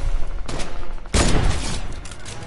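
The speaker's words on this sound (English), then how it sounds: "I hit him with the heavy sniper, though." Heavy sniper rifle fire in Fortnite: loud, sharp in-game gunshot blasts, one near the half-second mark and a bigger booming shot just after one second that rings out and decays, with no talk over it.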